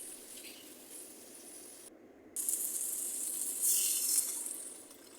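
Onions and tomatoes sautéing with salt and turmeric in a pan for Bombay chutney, a soft steady sizzle that briefly drops out and returns a little louder, quiet and close.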